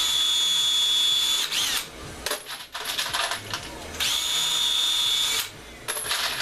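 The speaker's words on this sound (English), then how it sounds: "the time it takes you to use the drill" Power drill whirring in bursts with high-pitched metallic squeals as .223 brass cases are trimmed for reloading, pausing briefly between runs, close and fairly loud.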